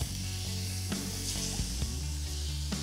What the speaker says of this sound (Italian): Ci spostiamo in una padella calda con un poco d'olio e lasciamo sigillare tutti i lati dell'arista.